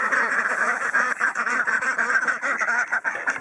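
A group of ducks quacks continuously and excitedly nearby while waiting to be fed pellet food, a busy overlapping chorus of calls with no pauses.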